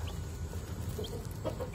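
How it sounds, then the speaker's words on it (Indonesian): Newly hatched chicks and a hen cluck faintly, with scattered soft high peeps and low clucks over a steady low background hum. "seperti inilah ayam yang baru menetas dan kita pisahkan dari induknya"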